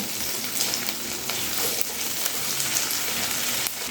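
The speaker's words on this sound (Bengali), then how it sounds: "এবারে আদা আর রসুনটা পেঁয়াজের সঙ্গে একটু ভালো করে ভেজে নিতে হবে।" Ginger and garlic paste sizzle with onions in a hot pan while cooking tengra fish, a steady close frying crackle with faint stirring, no voices.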